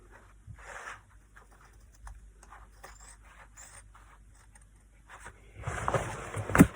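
Scissors cut through denim jeans fabric while a hem is being shortened. Quiet scraping and handling comes first, then a louder run of crunchy snipping close by at the end.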